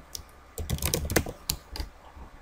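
Quick bursts of computer keyboard typing while entering a username, email and password, crisp close clicks in short clusters separated by brief pauses.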